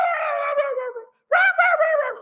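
A voice mimics a little puppy, producing two whiny, howling whimper phrases separated by a brief pause, clear and close with no other sound around it.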